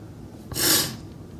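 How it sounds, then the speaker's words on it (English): A single quick, breathy sniff up close, rising and fading within about half a second against a quiet background. "I'm sorry about the sniffling"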